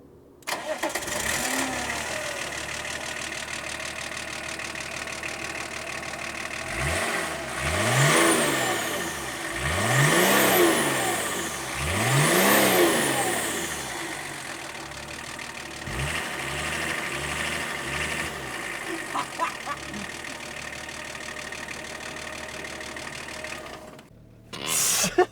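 A BMW 525 TDS E34 diesel cranks and catches, then settles into an idle with several rising and falling revs in the middle, heard close and loud with no talking, before cutting off near the end.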